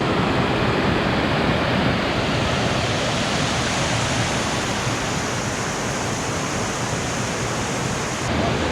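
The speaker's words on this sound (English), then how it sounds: "It's another little waterfall over by the Knick River." Steady broadband roar of a small waterfall, Pioneer Falls near the Knick River in Alaska, sounding close and continuous at an even loudness from start to finish, with no talk over it.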